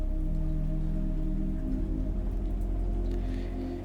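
A steady morning drizzle falls in a video game, a dense continuous patter of rain with a low rumbling bed underneath, even and moderately loud throughout, with no voices.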